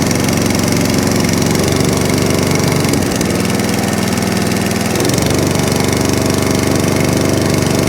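A repaired lawn mower engine runs loud and steady right up close, a continuous rough mechanical roar with a slight dip in pitch partway through, no voices.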